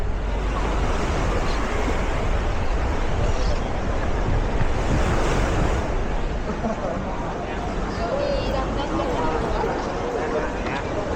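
Surf rolling onto a busy beach in Torrevieja on a Friday evening, a steady broadband wash with wind noise on the microphone and faint crowd murmur underneath, continuous throughout.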